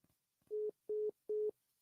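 Phone call dropping: three evenly spaced electronic tones, each about a fifth of a second, sound alone and clearly after the line cuts off.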